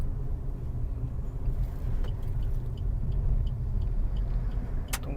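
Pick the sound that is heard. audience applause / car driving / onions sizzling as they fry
car driving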